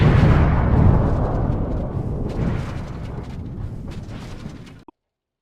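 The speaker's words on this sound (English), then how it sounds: "Explosions!" Explosions in the video game Stray, a loud sustained rumbling blast that slowly fades over several seconds before cutting off abruptly, with no talking.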